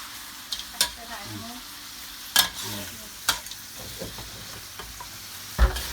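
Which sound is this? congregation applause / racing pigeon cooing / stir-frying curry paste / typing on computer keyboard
stir-frying curry paste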